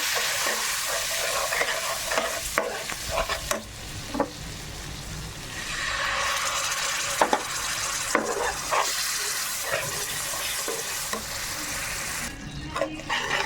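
Egg pickle mixture stirred in a pan with lemon juice, a sustained sizzle broken by repeated scraping strokes of a spoon and a brief pouring sound partway through.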